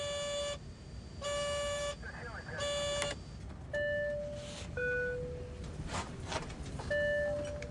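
Repeated cockpit warning tones on an Air Canada 143 airliner for failing fuel pumps, long steady beeps recurring in a rhythmic pattern with brief gaps, loud and close, over a background roar and occasional voices.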